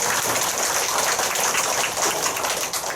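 A dense, steady wash of applause from an audience at a political party women's committee workshop fills the room, loud and unbroken throughout.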